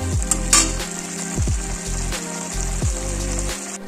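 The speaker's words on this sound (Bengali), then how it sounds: "এইবার এটাকে আস্তে আস্তে দিয়ে কষবো, এতে কিন্তু জল ইউজ করবো না" Burger stuffing fries in a pan without water, a loud close sizzle with a few quick spatula scrapes and light clinks against the metal.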